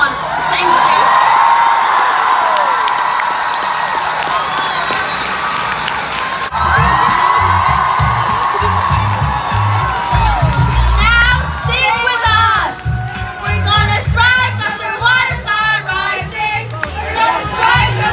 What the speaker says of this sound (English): We'll give them an applause.